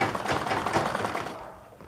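A sewing machine stitching a woman's shirt gives a short, rapid mechanical whirr of needle strokes that trails off and fades out near the end.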